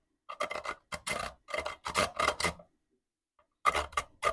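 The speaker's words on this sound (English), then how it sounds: "So I'm gonna try and see if I can grate fatwood into this container." Fatwood grated by hand into a container in a shed, heard as close, rough rasping strokes in quick rhythmic bursts, then a long pause before a few more scrapes.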